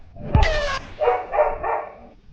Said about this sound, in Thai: แล้วหมาเห่ามันก็ได้ยินหมดเลย